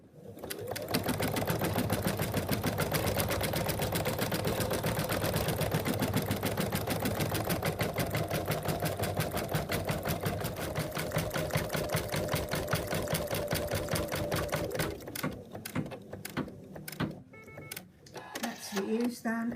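An embroidery machine stitches an appliqué outline on a cat paw-print design, a steady rapid mechanical chatter running loud and continuous before stopping near the end, with a voice briefly audible.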